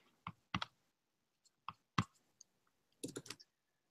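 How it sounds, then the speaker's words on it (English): Typing on a computer keyboard: irregular bursts of close, crisp key clicks with short pauses between, fairly quiet, with no talking. "So thanks for typing that in there, Mike."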